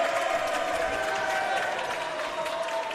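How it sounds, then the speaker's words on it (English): Noisy crowd of Melbourne University supporters at a BigV basketball game against McKinnon, a steady, dense roar of cheering and clapping from the stands around free throw attempts, loud and continuous throughout. "someone's getting loud on those free throw attempts over at the Melbourne Uni section"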